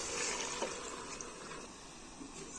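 About two glasses of water poured into cooked chana dal in a home kitchen, a quiet continuous splashing rush that runs alone for a few seconds.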